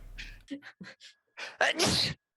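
A short, sharp sneeze bursts out near the mic after a few soft breathy sounds, loud and close.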